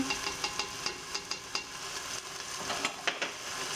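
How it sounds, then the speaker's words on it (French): A spoon stirs a tomato-paste and chana dal mixture in a pot, with soft repeated scraping clicks over a quiet steady sizzle, close and alone. "Et vous mélangez de nouveau"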